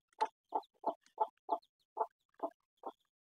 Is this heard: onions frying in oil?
no